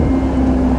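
A Maserati GranCabrio convertible gives a deep, steady exhaust drone with a strong low hum and wind noise. The sound is continuous and fairly loud throughout a very short moment.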